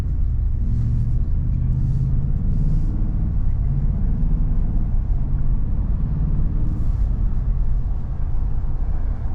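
A 2023 Ford F250 Godzilla pickup truck engine under heavy load, giving a steady, loud, deep rumble that continues unbroken throughout with no talk.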